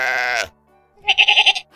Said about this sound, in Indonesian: Ya, suara kambing seperti ini.